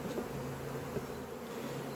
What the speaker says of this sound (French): Plutôt des petites abeilles celles-ci.